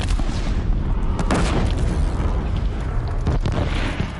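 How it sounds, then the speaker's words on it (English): Bombs exploding in a Horizon Zero Dawn battle, with heavy, rumbling booms and sharp bursts layered into a dense, continuous wash of low-end blasts, loud and close, with no talk. "Bombs definitely seem to be doing the trick"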